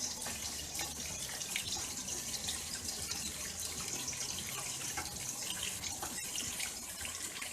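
Cold tap water runs steadily over blanched broccoli in a sink, a continuous close splashing hiss with faint drips, with no one talking.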